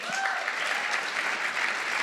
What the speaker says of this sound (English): They like clapping.